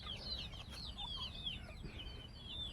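Chickens clucking on a local poultry farm, many birds calling together in overlapping high chirps and clucks, fairly faint and continuous.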